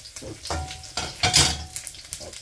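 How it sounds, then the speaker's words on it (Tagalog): Rice is stir-fried in a pan for tapsilog, with bursts of sizzling and scraping strokes at irregular intervals, close and fairly loud. "Sindan na naman natin ngayon at magsasangag na tayo."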